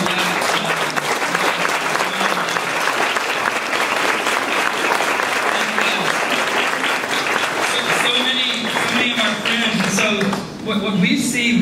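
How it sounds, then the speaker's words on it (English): Loud, sustained applause from a church or conference audience honoring attendees from outside America, dense clapping continuing steadily with cheers and voices mixed in throughout. "we just want to like clap loud for you"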